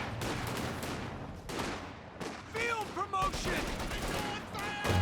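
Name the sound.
50 cal machine gun fire in Company of Heroes 2 video game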